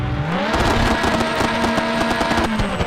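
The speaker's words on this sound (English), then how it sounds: "all the cars have the same engine" A synthesized car engine from a PS1 racing video game drones loudly with a buzzy, steady tone, its pitch stepping up as it accelerates through the gears, heard alone without talk.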